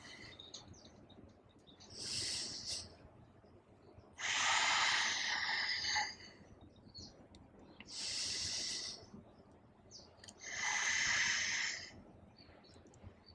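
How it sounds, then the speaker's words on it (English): Slow, audible breaths are taken during a yoga practice, with four long airy inhales and exhales in an even rhythm. The breathing is close and soft and rises clearly above a quiet room. "3 more of these with your own breath. Inhaling and exhaling."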